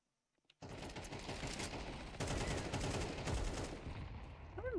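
Rapid, loud gunfire in Counter-Strike 2 from a Desert Eagle pistol, a dense run of shots starting abruptly after a short quiet lead-in and continuing steadily, with a brief fade at the end.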